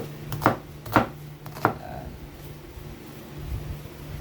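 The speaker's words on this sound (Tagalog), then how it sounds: "Inislice na kay Ili yung sibuyas" Onion being sliced on a cutting board while cooking adobong sitaw, three distinct knife strokes near the start followed by quieter handling and a low background hum.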